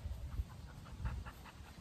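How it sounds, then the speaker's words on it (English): A hot poodle pants outdoors in soft, rapid, rhythmic breaths, faint and close under steady background hiss. "You see, he's hot. He's panting."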